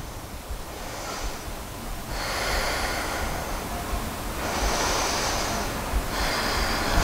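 Slow, deep breaths during yoga practice, several long airy inhales and exhales in an even rhythm, close and soft with no talk.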